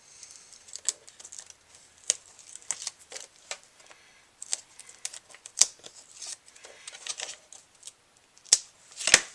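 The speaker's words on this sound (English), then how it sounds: "take off the tape backing" Tape backing peeled off by hand during a paper-craft project, a run of close, crisp crackling rips and papery snaps in irregular bursts with brief pauses, heard alone without talk.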